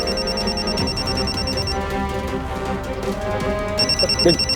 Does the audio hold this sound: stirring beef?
no